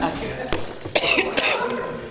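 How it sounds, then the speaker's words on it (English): A person coughs repeatedly in a busy room, with harsh bursts rising above a background of voices and faint clinking of dishes. "I'm like, oh my God, I can't stop coughing."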